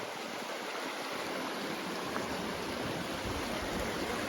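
Steady rushing water fills the scene, a continuous broadband hiss of a creek flowing in flood near a pond, with no pauses or voices.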